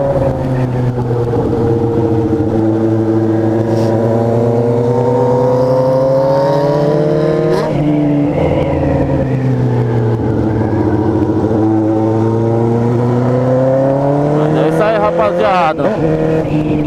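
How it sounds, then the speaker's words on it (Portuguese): Honda Hornet motorcycle engine while riding, a loud, close, steady droning growl whose pitch rises and falls with throttle changes, with wind rush and a few gear shifts throughout. "vocês querem um videozinho aí com a moto do Rex e o Rex com a minha"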